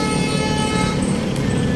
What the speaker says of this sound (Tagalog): So may bumubusina.